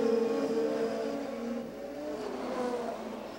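Three IndyCar race cars with different chassis and engines running nose to tail at the 1996 CART Detroit Grand Prix, their high engine whines rising and falling together as they close in and pass at a distance.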